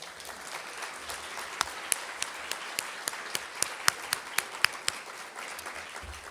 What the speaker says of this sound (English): Let's give a warm round of applause for this year's recipient of the Community Partner in Excellence Award, CenCal Health.